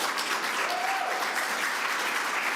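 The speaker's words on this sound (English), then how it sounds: "I want to give a special round of applause to our mayor, Malik Evans." A crowd at a New York governor's public event applauds the mayor, dense steady clapping filling the room for a few seconds with no talk over it.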